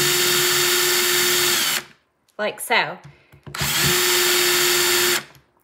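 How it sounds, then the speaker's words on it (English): A power drill bores through a tin can in two loud sustained bursts, with a short pause between them where someone speaks briefly. "You can go through really quick with a drill"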